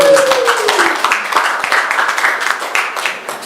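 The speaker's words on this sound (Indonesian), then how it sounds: "Tepuk tangan dulu." A church congregation at a Sunday service claps together in a dense, steady burst of many hands, fairly loud and close, with a faint voice briefly audible at the start.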